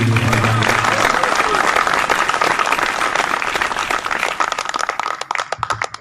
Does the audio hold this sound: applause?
yes